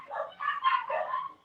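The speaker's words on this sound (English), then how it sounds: "Sorry about the dogs barking." Dogs bark and yip in the background, a brief muffled run of barks that sounds somewhat distant and moderately quiet.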